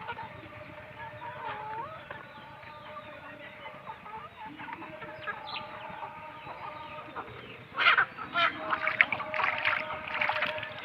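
Free-range country chickens cluck and murmur close by in a steady stream, with louder bursts of clucking toward the end and no talking.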